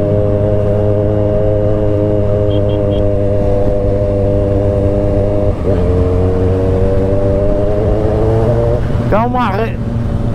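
A 2011 Kawasaki ZX14 motorcycle with a full 2.5-inch Atalla stainless steel exhaust drones at a steady, loud idle, dips briefly, then rises into a sharp rev near the end.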